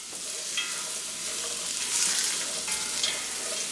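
Chopped onions and celery sweat and sizzle in a pot for chicken and dumplings, a steady close frying hiss with light scraping strokes of a spoon stirring through.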